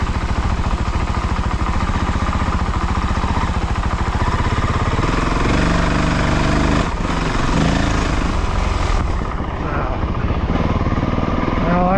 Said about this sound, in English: Third gear. Riding it like a big pit bike. Twist and go. In third gear.